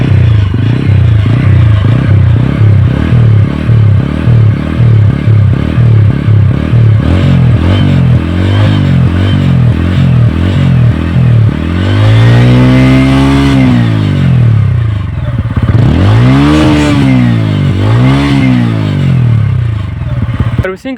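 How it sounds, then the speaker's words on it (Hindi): A freshly serviced TVS Ronin 225 motorcycle exhaust idles with a fast thumping pulse, then revs up and down in two loud, close surges. "सर्विसिंग के बाद और अच्छी आवाज़ आने लगती है साइलेंसर से।"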